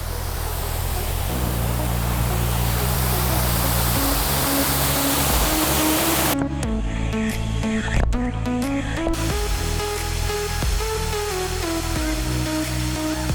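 Roaring waterfall at an Indonesian tourist spot in West Java, a thick continuous rush of falling water that fills the whole stretch, with a layer of background music running over it.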